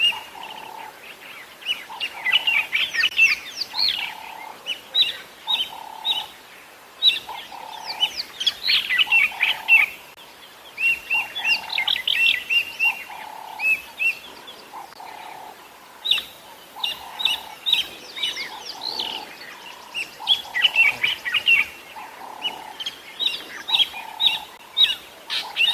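A bird repeatedly mobs eagles with loud, harsh, insistent calls, bursts of shrill notes recurring in rough cycles against a quieter outdoor backdrop at a safari sunset.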